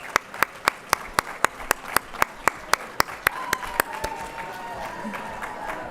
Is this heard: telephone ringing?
no